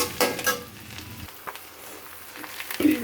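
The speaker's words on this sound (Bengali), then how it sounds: "আমার পেঁয়াজটা ভাজা হয়ে গেছে" Onions fry in a pan close by, giving a soft sizzle broken by a few clanks and scrapes of stirring, with a louder burst near the end.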